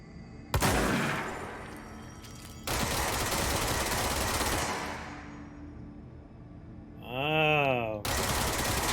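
Gunfire from a weapon in the video game Control, loud bursts and sustained rattling across the stretch, broken by a brief electronic whine, with game effects continuing throughout.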